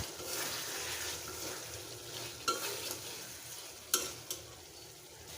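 Pieces of katla fish frying in a pan give a soft, steady sizzle, broken by a few sharp scrapes and clacks from stirring, at low volume and with no talking.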